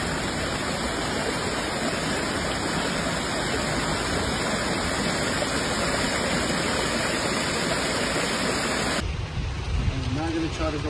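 Floodwater rushing through New York streets during a heavy 2025 flash flood, a loud, steady broadband roar that fills the whole stretch before cutting to a quieter, thinner wash near the end.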